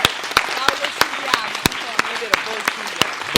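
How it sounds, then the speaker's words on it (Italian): Applause rises from an audience at a youth debate event, with loud sharp individual claps spaced out over a busy bed of murmuring voices and chatter. "So che l'avete fatto 1000 volte, ma vi chiedo un altro applauso a Chiara Cappo, Giordano Di Stasio e Paul Gi"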